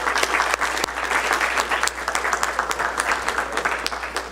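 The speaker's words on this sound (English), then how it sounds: "I want to give them a round of applause because it's not easy" At a city council meeting, an audience applauds Little League coaches gathered up front, the clapping loud, dense and continuous, with a low steady hum beneath it.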